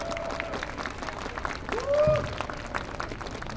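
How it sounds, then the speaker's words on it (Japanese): Applause and crowd noise for the champion team at a dance competition finale, with an announcer's voice and music running over it throughout. "チルドリアルに大きな拍手をもう一度。"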